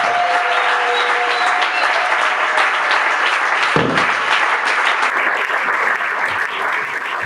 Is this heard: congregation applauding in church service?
yes